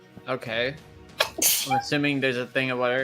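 A single sharp sneeze bursts out in the middle of ongoing conversation, with people talking just before and after it.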